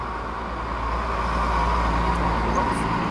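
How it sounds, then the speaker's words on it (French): Truck passing on a nearby road, a steady low rumble of traffic that swells gently over a few seconds, with no talk over it. "On va attendre que le camion passe."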